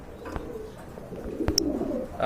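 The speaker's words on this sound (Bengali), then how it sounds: "মাশাল্লাহ চমৎকার এক জোড়া কবুতর" A pair of pigeons gives soft, low coos close by, with a brief chirp partway through over a faint background murmur.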